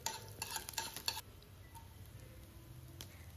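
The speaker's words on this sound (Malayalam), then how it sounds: "കടുക് പൊട്ടിയ ശേഷം ഇതിലേക്ക് 1 ചെറിയ കഷ്ണം ഇഞ്ചിയും 2 വലിയ പച്ചമുളകും ചേർത്തിളക്കുക." Ginger and green chillies are stirred into hot coconut oil with popped mustard seeds for a quinoa upma. A spoon scrapes quickly in the pan over a soft, continuous sizzle that settles into gentle frying.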